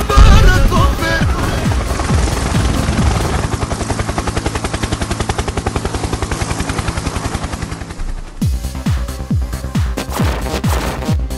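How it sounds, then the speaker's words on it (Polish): Rapid helicopter rotor chopping mixes with bursts of machine-gun fire, loud and continuous, with a sharp cut partway through into renewed chopping thumps. "Helikopter, helikopter!"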